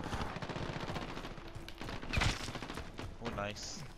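Rapid bursts of gunfire in a Call of Duty team deathmatch, with the rattling shots layered under overlapping talking.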